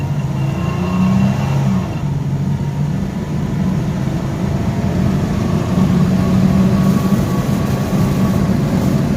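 A 1993 Chevrolet S10 pickup with the 4.3 engine revs up and accelerates, a steady loud low drone that builds and holds for several seconds with no talking over it.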